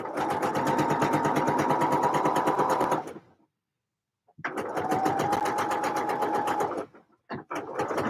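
Close, loud sewing machine stitching a knit top runs for about three seconds, stops briefly, then resumes for roughly two more seconds before a few short stuttering bursts.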